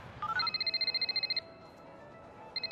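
A telephone rings with a rapid electronic warble in two bursts, separated by a short pause, fairly loud and close.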